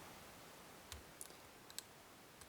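Lock pins clicking as an ASSA SCD 700 seven-pin serrated cylinder is picked: a few faint, sharp, isolated clicks spaced irregularly over quiet background hiss, with no speech.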